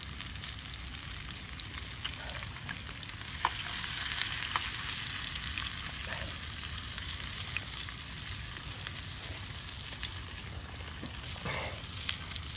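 Food fries in a pan over a wild-camp fire in October, giving a steady close sizzle and crackle with occasional stirring scrapes and no talk.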